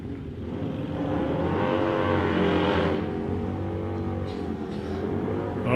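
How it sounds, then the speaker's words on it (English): Harley motorcycles drag racing side by side, one in each lane, at South Coast Raceway, give a loud, sustained engine roar that swells and holds near the middle before easing and rising again. "Another bike action run here too, one in each lane now"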